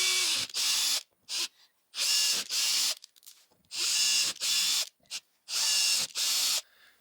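A low-powered drill runs in repeated loud bursts while tapping a thread into a 3D printer hotend, high whirring runs starting and stopping with short pauses between, no talk.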